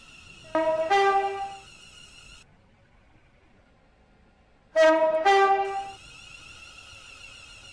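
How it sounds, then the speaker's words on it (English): A train horn sounds twice in Roblox Stepford County Railway at Stepford Central station, each a loud two-tone blast lasting over a second, separated by a quiet pause. "The train now approaching platform 1 terminates here."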